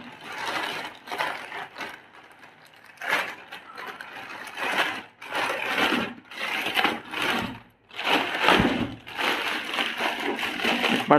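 The package of a Pigeon mixer grinder is opened, with close crinkling, rustling and crunching of packaging in irregular bursts over several seconds.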